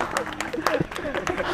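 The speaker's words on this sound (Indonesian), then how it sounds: "Beri tepuk tangan." An Indonesian stage audience gives a short burst of scattered clapping, with a voice talking over the brief applause.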